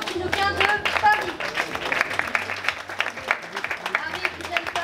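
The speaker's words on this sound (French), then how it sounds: "Vous pouvez l'applaudir bien fort" A crowd claps for candidate number ten, Marie from Paris, at a Miss Mermaid France pageant held at the Sofitel Quiberon, with a host talking over the applause.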